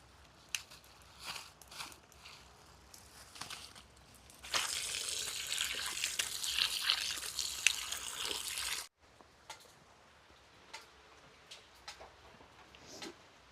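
Raw chicken rinsed under running water in a kitchen sink, a steady broadband splash lasting a few seconds, framed by quieter handling clatter before and after.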